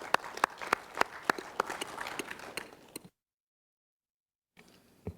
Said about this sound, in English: Another applause to Rwanda.